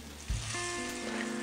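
Fish cutlets with spinach are laid into a frying pan of hot vegetable oil, setting off a sudden loud sizzle that continues steadily for a moment.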